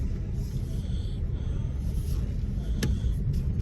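A manual Nissan Qashqai drives along a road during a driving lesson, a steady low engine and road rumble close inside the cabin, with a brief sharp knock near the end.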